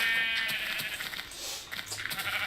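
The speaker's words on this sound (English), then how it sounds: "we gotta have some more white sheep, too" Sheep in Minecraft PE bleat repeatedly in quick, nasal bursts, filling a short stretch at close range with no talk over them.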